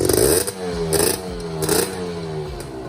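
A Kawasaki ZX150 motorcycle with an aftermarket exhaust pipe revs up close by, with several sharp throttle blips rising over a steady clattering idle.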